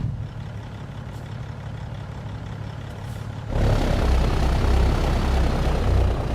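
Low, heavy diesel rumble of a customized long, lowered Kenworth truck in American Truck Simulator, idling steadily before the engine note swells louder and deeper as it begins to chug under load.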